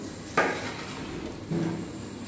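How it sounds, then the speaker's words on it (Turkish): Ashure is stirred with a utensil in a large metal cauldron, two distinct knocks against the pot, close and moderately loud, with no talking. "Ve karıştırmaya devam ediyoruz."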